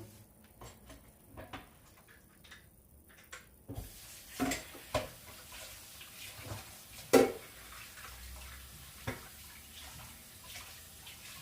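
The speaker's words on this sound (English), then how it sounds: "there's a constant bit of cleaning, washing and drying" Running water and dishes being washed in a home kitchen while cooking chicken biryani, a steady tap flow under scattered clinks and knocks of crockery, close and moderately quiet.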